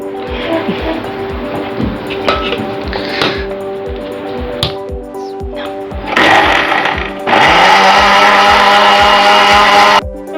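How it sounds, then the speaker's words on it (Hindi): Blender whirring loudly as it mixes a pineapple pink lady drink coloured with pink food colouring, a steady motor hum that rises to a harsher, louder roar in the final seconds, with no talking. "इसको अब मैं पहले ब्लेंड करूंगी अच्छी तरह"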